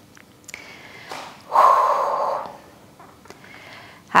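A single forceful exhale during a glute workout, a breathy rush lasting about a second, heard close and fairly loud amid quiet room noise with a few faint clicks.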